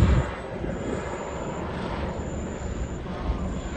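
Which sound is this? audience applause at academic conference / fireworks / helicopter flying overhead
helicopter flying overhead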